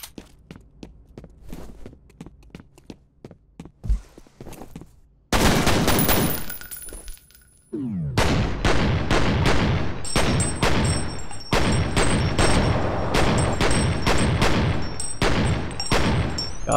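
Pistol gunfire in the shooter game F.E.A.R.: quiet footsteps open, then a loud burst of rapid shots, followed by a long run of sharp, closely spaced pistol reports with ringing tails.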